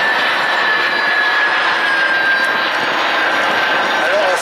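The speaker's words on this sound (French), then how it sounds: "Cette séparation, on retourne un petit peu dans les années 50 avec ces deux avions à réaction." Two 1950s jet aircraft at an air show fill the air with a loud, continuous jet roar and whine that stays steady throughout.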